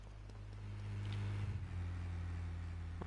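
A vehicle engine from the GTA trilogy video game holds a low, steady rumble that swells slightly mid-way, fairly loud and close, with no talk over it.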